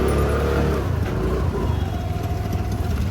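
A car engine rumbles and revs steadily while following an auto-rickshaw loaded with wooden stools, a continuous close drone with no voices.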